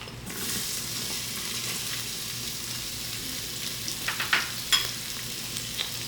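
Chopped onion hits hot oil with cumin seeds in an Instant Pot, giving a loud, steady sizzle with a few sharper crackles and scrapes toward the end.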